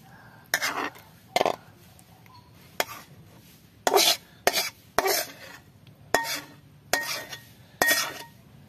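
Mustard shrimp curry served from a pot into a bowl, with a series of nine or ten separate sharp metallic scrapes and clinks of a spoon against the pot, spaced roughly a second apart.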